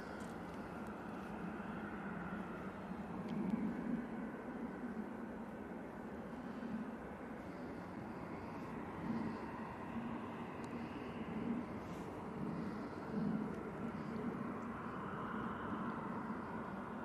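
A Boeing 787 Dreamliner passing overhead near Manchester Airport, a steady, fairly faint broadband roar with a low hum that swells and fades gently over the whole stretch, with no voices.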